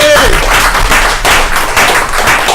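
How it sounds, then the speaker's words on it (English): A comedy club audience breaks into loud, dense applause with rhythmic clapping and crowd noise, sustained at close range throughout. "give him a round of applause"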